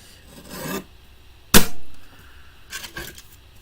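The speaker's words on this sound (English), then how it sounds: "Just going to trim this straight because it's not." Scraping rasps and one sharp snap as a piece of craft card is trimmed straight, with short bursts of rubbing before and after the cut, near and fairly loud.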